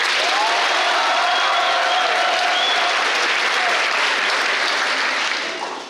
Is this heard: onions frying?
no